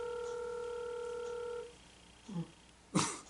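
An outgoing phone call on the line: a steady electronic ringback tone holds for about a second and a half and then stops, followed by faint low rustling and a soft thump at the end.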